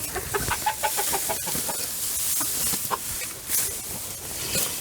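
Chickens cluck in a coop with hay on the floor, a run of quick close clucks at first, then scattered calls over a steady hissing background.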